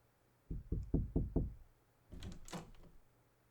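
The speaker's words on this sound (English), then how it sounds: "Knock, knock." Five quick firm knocks on a wooden door, close and clear, then a pause and a softer rattling shuffle as the door seems to slide or move; no voices.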